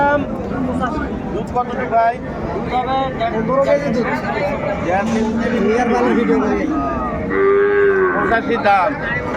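Cows and calves moo repeatedly at a cattle market in Dinajpur, several loud drawn-out calls overlapping with men bargaining and crowd chatter around them.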